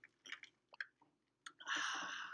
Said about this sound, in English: That would be my dog chewing on her bone.